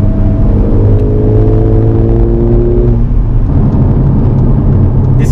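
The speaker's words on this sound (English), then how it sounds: "I'm not sure if the camera can pick up the exhaust sound, but it sounds pretty good" A Mercedes CLA 45 AMG engine and exhaust heard from close by, a loud, steady deep rumble with a rising rev tone in the first few seconds that then settles into a dense, even drone.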